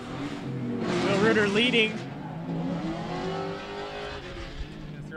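Two E36-chassis drift cars running tandem in competition, one with an M52 turbo and one with a V8, roaring and revving loudly throughout under excited commentary.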